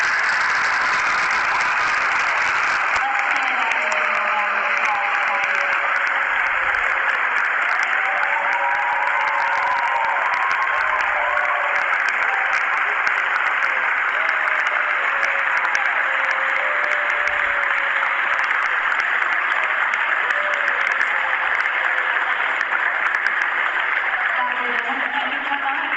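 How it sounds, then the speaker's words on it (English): Sustained applause from a school audience at a Veterans Day program, a dense, even clatter of many hands clapping that continues steadily for the whole stretch. "Let's give them a round of applause."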